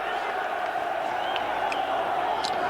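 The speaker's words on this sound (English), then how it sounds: "Big crowd here." A big football crowd roars steadily at the Barnsley v West Ham United FA Cup match of January 1993. A commentator talks over the dense stadium noise, with a few faint shouts rising above it.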